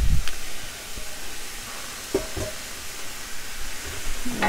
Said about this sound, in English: I always give my onions a head start. So I'm gonna cook these off. This is just a quick saute.